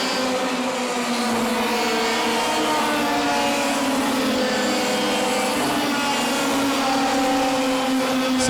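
Racing karts in a GKC 100 race at Wackersdorf, Germany, set off on their formation lap, a steady, continuous engine drone holding for several seconds at moderate distance with no pauses.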